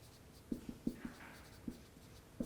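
A few soft taps and scratches of marker or chalk writing on a board during a signals and systems lecture, faint and intermittent in a quiet room.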